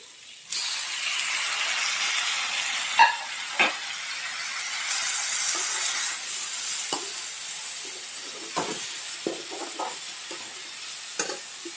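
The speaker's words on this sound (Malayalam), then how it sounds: "അതിലേക്ക് നമുക്ക് അരിഞ്ഞ് വെച്ചിരിക്കുന്ന കോൺ ചേർത്ത് കൊടുക്കാം." Chopped mushrooms stirred in a hot pan give a steady sizzle and hiss throughout, broken by occasional sharp scrapes and clicks of the spoon against the pan, close and moderately loud with no talking.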